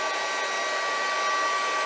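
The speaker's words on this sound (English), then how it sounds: "you don't need to listen to my blow dryer going that long" A hair dryer blows steadily and close on acrylic paint that is drying. It is a continuous, even whoosh with a motor whine, heard alone and without voices.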